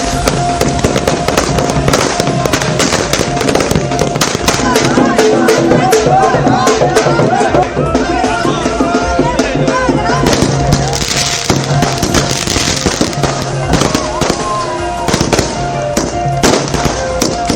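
Loud firecrackers bursting in rapid, irregular crackling volleys over a festive crowd murmur and music, continuing throughout, at a public celebration.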